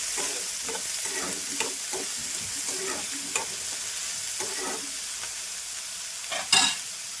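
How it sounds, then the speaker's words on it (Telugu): Onion pieces stirred in hot oil with green chillies for an Andhra-style broad bean and tomato curry, a steady close sizzle punctuated by scraping strokes of a spoon and a louder clatter near the end. "ఉల్లిపాయలు ఒకసారి కలుపుకుందాం."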